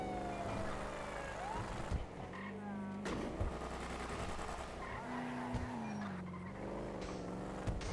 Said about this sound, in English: See that car just flying by?